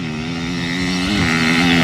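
Motorcycles accelerate off the line in a 100 metre sprint race at a motorcycle festival, engines droning loudly and close as a steady rising roar with a pitch shift midway.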